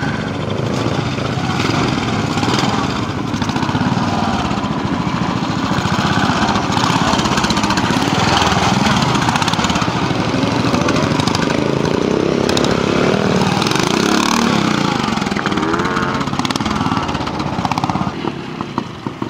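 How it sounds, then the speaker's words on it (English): A Royal Enfield 350 motorcycle engine running steadily at a pre-unit classic trial at Keighley Gate, Yorkshire, a loud continuous rough drone filling the whole stretch with outdoor rumble. "Peter McKenna, 350, Royal Enfield."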